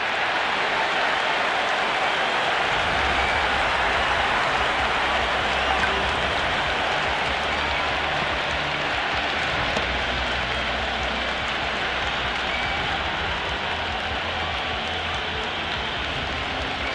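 A cricket stadium crowd in the Cricket 26 video game, during a Hundred tournament match, gives off a dense, unbroken roar of cheering that stays steady and wide throughout, with no clear voices on top.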